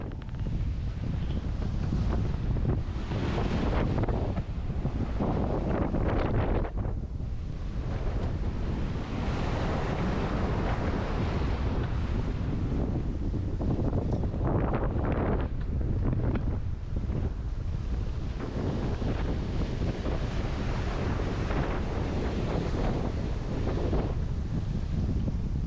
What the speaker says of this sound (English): Back up to 30 plus knots of wind, but it's behind us, so it's good.